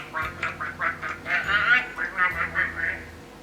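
A voice imitates a duck with a rapid run of about ten nasal quacks in a steady rhythm, fairly soft and close, as part of a children's color-card movement game.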